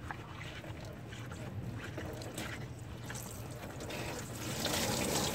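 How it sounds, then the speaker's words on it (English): Radiator coolant drains out of a car into a drain pan, a soft continuous trickle and splash of liquid that grows fuller and louder toward the end, faint and with no talking. "And there goes our radiator fluid."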